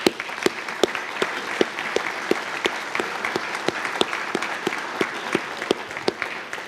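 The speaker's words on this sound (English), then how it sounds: "ask everybody here to join me in a round of applause for their great efforts" Audience at an annual meeting applauding steadily, with sharp individual claps spaced fairly regularly over a continuous wash of clapping, moderately loud and without talk.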